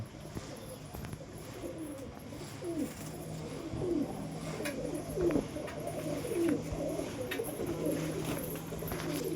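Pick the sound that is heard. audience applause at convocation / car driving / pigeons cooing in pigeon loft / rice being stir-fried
pigeons cooing in pigeon loft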